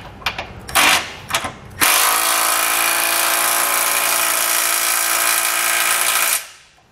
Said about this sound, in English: For the smaller 1/2-inch bolts, we can use either a 19 millimeter socket or a 3/4-inch.